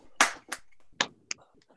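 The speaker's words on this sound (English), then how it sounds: "Everyone can unmute and clap" An online audience applauding after a poem reading: a few scattered, separate bursts of clapping from different people, each short and uneven, fading out toward the end.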